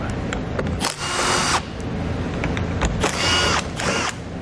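Short bursts of a power tool whirring as 10mm bolts are removed from a 2018 Chrysler Pacifica, close and fairly loud, with brief pauses between runs.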